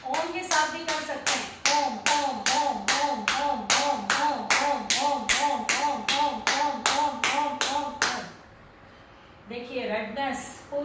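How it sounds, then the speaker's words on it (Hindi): Steady, fast rhythmic hand clapping during a health exercise, loud and close, with a chanting voice under the claps before a short pause and a few more claps. "तालियों के जरिए आप अपने स्वास्थ्य को सुधार रहे हैं।"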